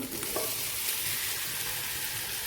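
Cooked beef being sautéed with onions in a pan for beef biryani, a constant loud sizzle and hiss of frying with a brief stirring scrape near the start.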